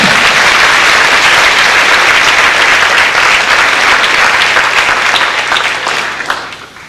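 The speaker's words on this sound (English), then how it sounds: "Let's give them a nice round of applause." Loud, dense applause from a large crowd at a middle school awards banquet, sustained steadily for several seconds before starting to thin out at the end.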